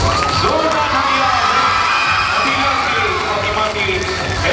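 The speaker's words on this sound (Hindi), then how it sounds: "जोरदार तालियां" A crowd of children and adults at a school celebration in Hyderabad cheers and shouts loudly, a continuous, boisterous roar with excited voices carrying over it throughout.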